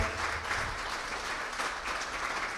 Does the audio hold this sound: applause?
yes